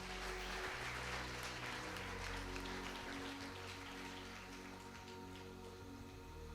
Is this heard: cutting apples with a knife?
no